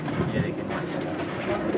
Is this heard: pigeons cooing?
yes